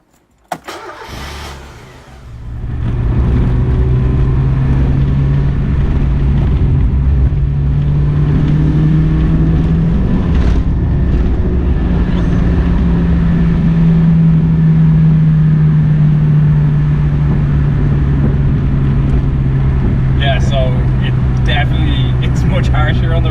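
A Mazda MX5 on Team Dynamics Pro Race 1.2 wheels starts up and drives steadily, its mid-pitched engine droning loud and continuous alongside road and tyre noise, with a brief voice heard early on.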